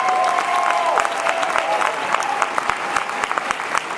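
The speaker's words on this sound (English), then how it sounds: "Give him a round of applause." Steady applause from an audience at a political fundraiser dinner, a dense wash of clapping with a faint tone underneath, continuing evenly for a few seconds.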